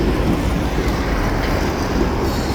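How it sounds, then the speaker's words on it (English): A freight train rolls along the tracks nearby, producing a loud, continuous low rumble with wind buffeting the microphone throughout and no voices. "the train's is underway now."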